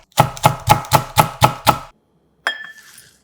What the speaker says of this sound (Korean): 청양고추 2개는 반을 갈라 작게 잘라 넣어줍니다